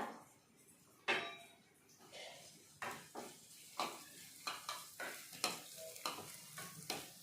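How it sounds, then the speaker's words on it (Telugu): Garlic and coriander seeds fry in a pan for a Telangana tamarind soup, a soft sizzle under repeated metallic scrapes and taps of a spoon stirring, close and fairly quiet, with no talking. "తెల్లగడ్డ వేసుకున్నాం ఇందులోనే ధనియా కూడా వేసుకున్నాం ఇందులో"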